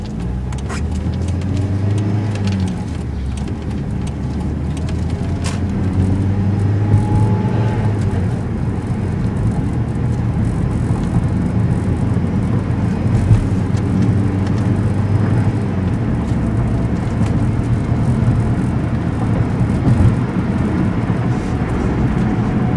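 A manual car engine in a VR stick-shift driving game, a loud continuous low engine drone across the whole stretch, rising and dipping slightly with the gear changes.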